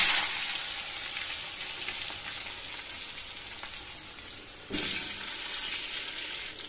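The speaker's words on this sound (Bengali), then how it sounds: "চলো এবার পটলগুলো ভাজা করে নেবো। তেলটাও গরম হয়ে গেছে।" Cut pointed gourd pieces fry in hot oil, producing a soft, continuous sizzle that fades slightly over time, with a brief louder burst near the end.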